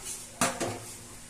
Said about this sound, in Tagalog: Ang aking bunsong anak, marunong na magugas ng pinggan.